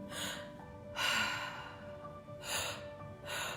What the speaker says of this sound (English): the breath looks like this.